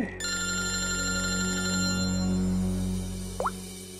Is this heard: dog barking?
no